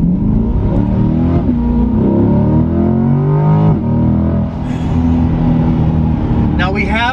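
A Ford Mustang GT fitted with high-flow catalytic converters, running in track mode, revs loudly and steadily under continuous nearby talk, its engine note rising and falling for several seconds.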